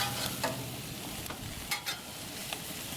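Vegetables sizzling on a barbecue grill, a steady close crackle and hiss with occasional sharper pops, no voices.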